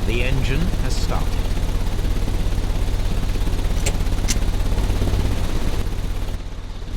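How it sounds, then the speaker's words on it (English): A ventilation system runs in the Sherlock Holmes: Crimes and Punishments game, a loud, steady whooshing drone that fills the whole stretch and eases off slightly at the very end. "The ventilation system is working."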